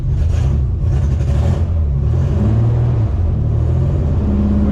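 A repaired Ford Bronco engine runs loud and close, a steady rumbling idle with slight rises in revs and an uneven beat that suggests some cylinders are not firing cleanly.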